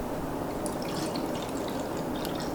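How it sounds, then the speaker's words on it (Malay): Water trickling and dripping as it is poured into a flame-effect humidifier, a steady soft liquid splash and patter lasting throughout, fairly close and moderately quiet with no talking. "step yang pertama kita kena buka dulu penutup dia lepas tu kita masukkan air"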